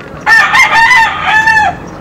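A rooster, among fighting-cock stags and hens, gives one loud, close crow lasting about a second and a half, with harmonic, wavering tones over a quiet background.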